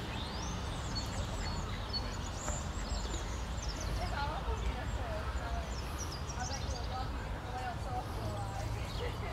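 Canada geese call by a pond in Wombwell, Barnsley, with scattered honks and chatter over steady outdoor background noise and other waterfowl, while people talk nearby.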